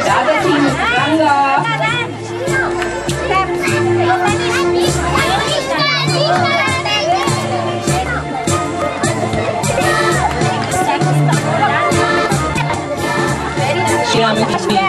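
Dense crowd chatter with many children's voices shouting and talking at an event, a loud, continuous hubbub closing in around one person, with music-like tones running underneath.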